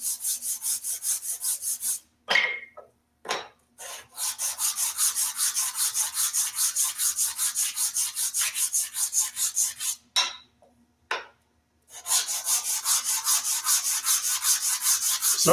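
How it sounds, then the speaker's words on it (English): Wooden chair leg rubbed by hand on sandpaper laid flat on a table saw top: steady rhythmic back-and-forth sanding strokes, close and loud, with two brief pauses where the scraping stops. "Grab sandpaper, lay it on your table saw because your table saw is dead flat."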